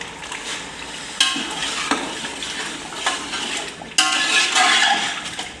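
Meat and potatoes, one kilo each, are stir-fried in oil in a pot for aloo gosht, giving a loud steady sizzle with sharp scraping stirs and clanks at intervals, close and without talk.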